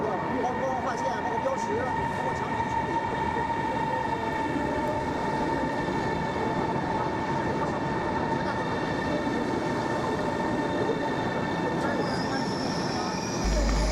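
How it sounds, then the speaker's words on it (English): A high-speed bullet train arriving at a station in China rumbles steadily and loudly, its wheels and motors giving off a sustained metallic whine and squeal that holds throughout. "Our train arrives right on time"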